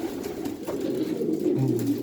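Pigeons coo inside a loft with nesting shelves, a soft, steady, low throaty murmur that swells slightly toward the end, with no voices over it.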